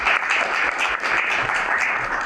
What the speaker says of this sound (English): I think we should give him a hand clap for that.